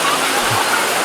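Anantagiri waterfall pouring steadily, a dense broadband rush of falling water that fills the whole brief moment, loud and close with no pauses.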